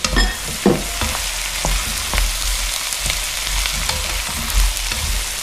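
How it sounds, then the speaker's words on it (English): Mushrooms and celery frying in a pan for a chicken curry, a steady broadband sizzle with a few sharp stir clatters and taps over it, close and moderately loud, no voices. "Now we add our mushrooms and celery. So mushrooms and celery go in."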